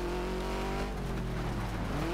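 A rally car's engine in the DiRT 2 racing game roars continuously and loudly, holding a steady high-revving drone with slight shifts in pitch throughout.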